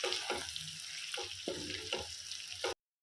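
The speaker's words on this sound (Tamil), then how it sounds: "இப்படியே நம்ம வந்து இதை இட விடாமல் நல்லா வதக்கிட்டே இருக்கணும், இல்லைன்னா அடி பிடிச்சி போயிடும்." Duck varuval being sautéed in a pan on low heat, a continuous hissing sizzle with scraping stir strokes recurring through it, no talk.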